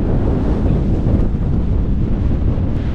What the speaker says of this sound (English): still a strong wind. Woo. Windy.